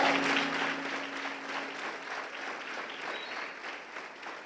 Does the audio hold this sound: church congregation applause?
yes